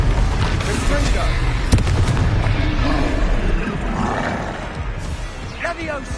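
A Confringo fire-blast spell from the video game Hogwarts Legacy on PS5 bursts with a loud, booming impact amid a dense, roaring battle din, with voices shouting over the chaos.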